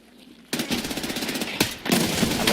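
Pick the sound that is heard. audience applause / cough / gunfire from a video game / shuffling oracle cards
gunfire from a video game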